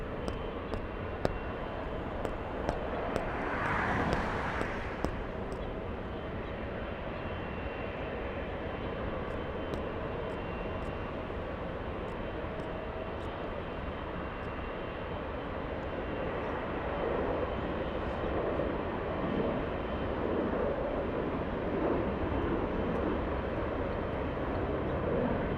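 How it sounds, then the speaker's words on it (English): A United Boeing Dreamliner lines up on runway 24 left at Los Angeles International Airport, its engines holding a steady, moderately distant rumble with soft hiss that swells slightly toward the end, with faint clicks near the start. "Line up and wait for the United Dreamliner."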